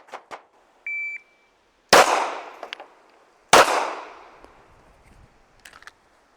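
Pistol shots fired offhand during a training drill at a range: two loud sharp cracks about a second and a half apart, each ringing out and decaying, with a brief electronic timer beep beforehand and faint clicks around them.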